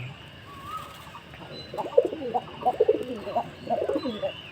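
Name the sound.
pigeons eating wheat and drinking water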